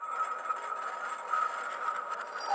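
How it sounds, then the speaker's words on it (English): Dark, rattling chain-like sound effect layered into a hip-hop beat, a steady metallic shimmer that holds at even loudness for the whole stretch with no voices. "It sounds kind of like some chains."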